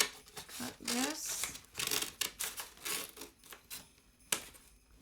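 Scissors snip through material for a Christmas hat in several short, close, crisp cuts, with someone talking softly in between.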